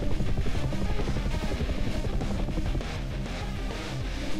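A video game helicopter in a police robot battle game: a dense, loud, low rumbling drone with rapid rotor-like chopping fills the whole stretch, steady and unbroken, with no voices.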